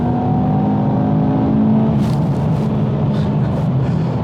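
A supercharged Mercedes C63 engine revs hard under full-throttle acceleration, a loud steady drone with a brief gear-change break partway through.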